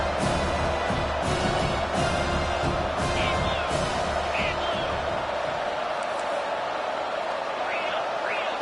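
A football stadium crowd at a Georgia versus Ole Miss game roars steadily as the defense is pressed deep in its own red zone, a broad sustained wash of cheering with a few whoops standing out.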